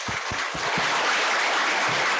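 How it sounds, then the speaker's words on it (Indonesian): A lecture-hall audience applauds a visiting professor after his public lecture, the sustained broadband clapping steady and fairly loud throughout, with a few low thumps near the start. "Tepuk tangan sebelumnya untuk Prof."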